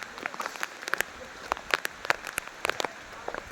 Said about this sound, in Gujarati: અત્યારે વરસાદ ચાલુ જ છે મિત્રો.